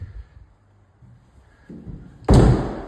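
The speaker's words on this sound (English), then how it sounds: "these doors are hitting each other" Two doors in a Footscray property collide with a sudden loud wooden thump near the end, after a quiet stretch of faint room noise and soft shuffling.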